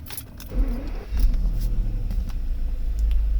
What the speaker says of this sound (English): let me just one more time start the vehicle so you see that